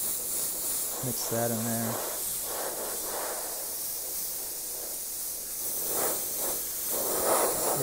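An airbrush sprays bright, opaque yellow paint onto a softball helmet, giving a steady close hiss throughout with brief clicks, while someone speaks a few words over it.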